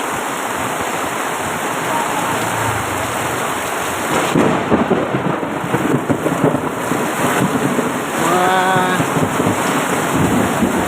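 Heavy rain pours steadily while thunder rumbles and cracks overhead, growing louder partway through; a brief tonal chirp rises near the end.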